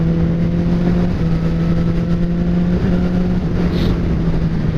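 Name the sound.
motorcycle low speed gear shifts with Healtech quickshifter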